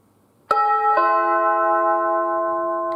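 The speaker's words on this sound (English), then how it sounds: "that's ding dong, kind of formal sound." A two-note electronic doorbell chime from a Ring WiFi chime unit rings out clearly, its tones sustaining and slowly fading in an otherwise quiet room.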